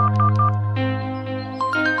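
A mobile phone ringtone plays loud and close on a rooftop, a bright electronic melody of repeated tonal notes shifting in pitch partway through, with no voices over it.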